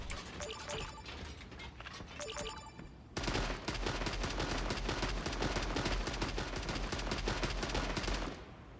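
Rapid automatic gunfire rattles in the shooter game Creative Destruction, first choppy bursts, then a dense continuous stream of fast shots lasting several seconds before cutting off.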